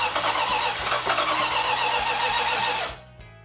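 Car engine cranking over and over without catching after a distributor install, with a loud, steady starter churn for about three seconds before it stops abruptly.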